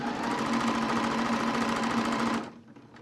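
A sewing machine runs steadily at close range, stitching the elastic casing of small doll jeans with a fast, even mechanical whir that holds for over two seconds and then stops abruptly.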